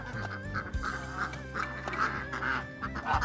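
Ducks quack repeatedly in a close, noisy flock while someone chops bananas to feed them, calls overlapping in quick bursts.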